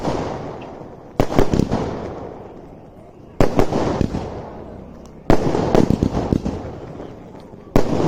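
Village fireworks display bursting repeatedly in loud clusters of crackling pops, each volley sharply starting then fading into a hissing tail before the next one.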